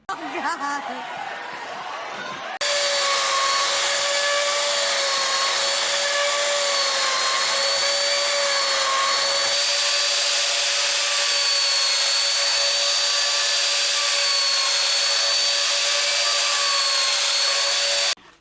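A steady, loud whining drone of a power tool sanding continuously on a radiusing jig, putting a 12-inch radius on a Telecaster-style guitar fretboard, starting after a brief stretch of quieter background noise.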